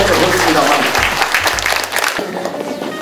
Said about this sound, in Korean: 박수를 좀 세게 쳐야 되는데